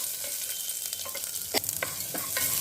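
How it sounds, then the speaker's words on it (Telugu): Moong dal fries in a pan with garlic, a soft steady sizzle broken by several sharp scraping strokes of a spatula, close and moderately quiet. "దాంట్లోనే పప్పు వేసుకోవాలి వేపుకోవాలి"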